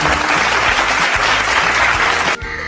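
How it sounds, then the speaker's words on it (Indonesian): Students in a classroom lesson clapping together, a loud dense burst of applause that holds steady and then cuts off abruptly near the end, leaving a quieter tail. "Kita kasih tepuk tangan dulu yuk"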